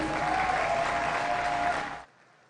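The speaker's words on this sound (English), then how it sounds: "our senior showman a round of applause," Applause for the senior showman at a county youth fair livestock show, a steady, close round of clapping that cuts off abruptly near the end, leaving near silence.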